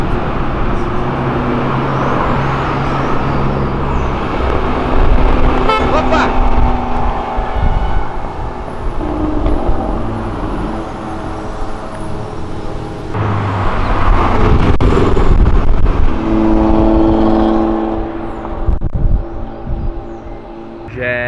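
A white Porsche with a loud aftermarket exhaust revs and accelerates hard nearby, its engine roar rising and falling in surges over steady traffic noise, with other cars passing.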